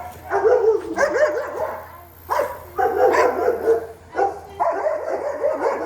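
Several Labrador dogs bark excitedly in rapid bursts close by on a farm, with short pauses between volleys and some yipping and whimpering mixed in.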